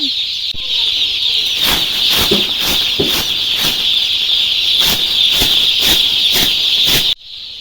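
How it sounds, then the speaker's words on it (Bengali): Over eight hundred broiler chicks, newly brought home, chirp in a dense, shrill, continuous chorus. Quick peeps pile on one another close by, then the sound drops off abruptly at the end. "আজকে আমরা বাড়িতে 800 উপরে মুরগি তুলেছি।"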